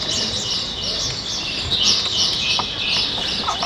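Bird chirps and tweets used as a sound effect in a YMCA Christmas play, a steady bright twittering over a hissy hall background with no one speaking.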